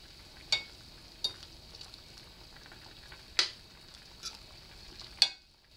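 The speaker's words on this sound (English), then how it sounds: "I'm going to go ahead and add all that meat back in and stir it around." Deboned squirrel meat is stirred into a pot of pot-pie filling with potatoes: a faint steady simmering hiss broken by five or six sharp spoon clicks against the pot, then quiet.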